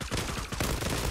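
Rapid automatic gunfire in the online shooter game Zula, a dense burst of shots that continues without a break for about a second, loud and close.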